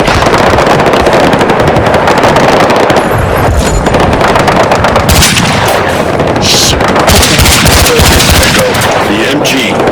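Machine gun nest firing in a first-person shooter game, dense loud rapid bursts of automatic gunfire with explosions and battle noise throughout, with voices talking underneath.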